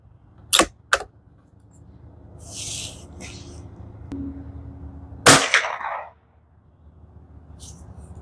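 Shots from a Savage Mark II rifle with Federal Automatch ammunition on a range: two sharp cracks close together, then a third louder report with a short tail, each loud and close.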